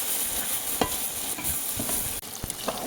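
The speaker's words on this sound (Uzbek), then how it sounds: "mahsulotlar qovurayotgan paytimizda ehtiyotlik bilan qozon tagigacha mana kapirimizni solib mana akkuratniy qilib qovuramiz" Beef heart and other ingredients sizzle steadily in a cooking pot (qozon) while a spatula stirs and scrapes along the bottom, with several distinct scraping strokes over the frying.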